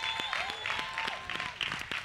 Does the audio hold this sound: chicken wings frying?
no